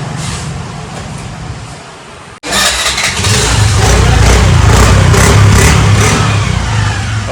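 A 2018 Honda Dio scooter engine starts after a brief idle-like hum and a sudden cut, catching and settling into a loud, steady running drone close by with slight rises in revs.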